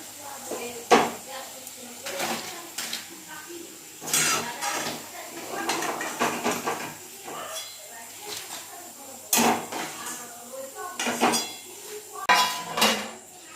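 Metal utensils clink and scrape against a pan as fried khaja sweets are lifted out of hot oil in a village kitchen, sharp intermittent knocks over a faint sizzle, with someone talking between them.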